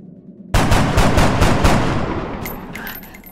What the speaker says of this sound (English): Trini takes a pot shot at the putty's advance.